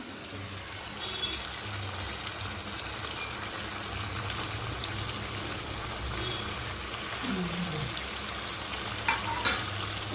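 Fried snakehead fish pieces with chili paste and salt crackle and hiss in a pan as they are stirred, a steady, moderately loud frying sound broken by a few scraping clinks near the end.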